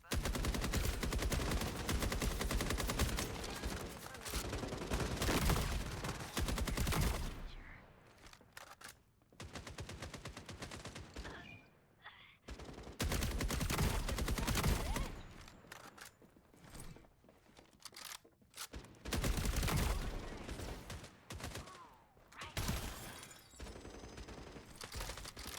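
Rapid, loud video game gunfire with heavy recoil rattles in long sustained bursts separated by short pauses, close and dominant throughout.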